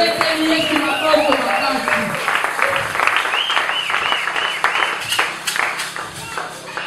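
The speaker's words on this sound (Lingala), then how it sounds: "Acclamons pour Jésus-Christ." Congregation clapping together in a church service in Kinshasa, dense rhythmic applause under loud voices and singing-like calls, with brief shouts and a sustained busy crowd texture.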